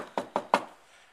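Three quick, evenly spaced knocks land on an old door, crisp and fairly close, then fade into silence.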